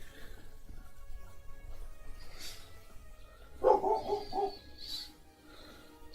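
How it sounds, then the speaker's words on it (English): A pet dog barks in the background of a home gaming stream, a short run of four or five fairly faint barks in the middle with no talk over them. "That's my dog barking in the background."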